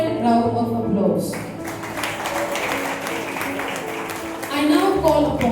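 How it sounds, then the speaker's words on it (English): Audience applause for Sister Flavia at a school alumni assembly, a steady wash of clapping that swells at the start and end, with speech and some tonal sound running underneath. "heartfelt round of applause"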